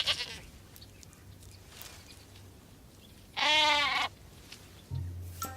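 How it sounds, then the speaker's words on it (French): Goats in an argan tree in the Sahara bleat in one loud, clear, wavering cry in the middle, over a soft background hum, with faint shorter sounds before and after, in an animated children's cartoon. "Un arbre plein de chèvres?"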